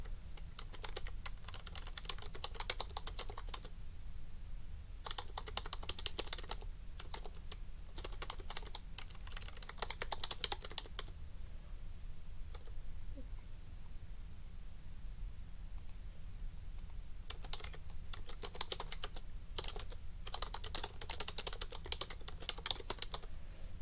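Rapid typing on a computer keyboard, continuous clicking key presses in bursts with short pauses, close and fairly quiet, no voices.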